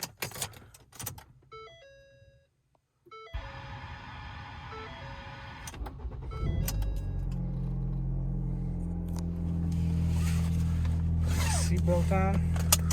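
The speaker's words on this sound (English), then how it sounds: "From here I'll go ahead and start the vehicle up." Inside a 2011 Ford Fusion SE, a few electronic dashboard chimes ring out, then the engine cranks and catches with a low rumble that settles into a steady idle.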